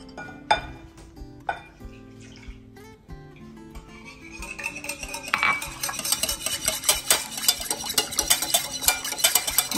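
Waffle batter with milk and vanilla is mixed in a bowl, starting with a few scattered clinks and then becoming a fast, steady rhythmic whisking and scraping that grows louder and busier.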